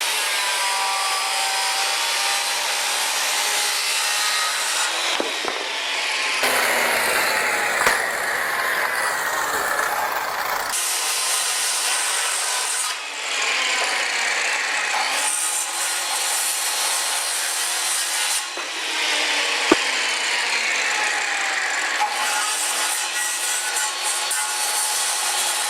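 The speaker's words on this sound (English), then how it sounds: "I'm going to adjust the saw at a 45-degree bevel for the plumb cut of the jack rafter" A power saw set to a 45-degree bevel cuts plumb cuts on wooden jack rafters for roof framing, a steady loud whining rasp with brief pauses between several passes through the wood.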